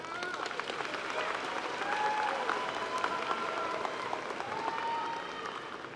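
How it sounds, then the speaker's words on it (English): A graduation ceremony audience for a high school class of 2017 applauds and cheers, a dense, steady wash of clapping with scattered whoops that swells slightly in the middle and holds for several seconds. "Give yourselves a round of applause."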